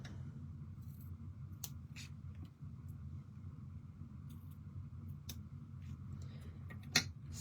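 Scissors give a few sharp, faint snips while trimming ribbon for a handmade card, with a low rumble of passing traffic in the background.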